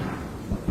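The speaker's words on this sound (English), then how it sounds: "The storm that swept through Brisbane, concentrating itself on Woolloongabba and on the cricket ground." A thunderstorm hits the Woolloongabba cricket ground in Brisbane, a brief low rumble of thunder with rain noise, fairly loud and steady, swelling slightly near the end, with no talk.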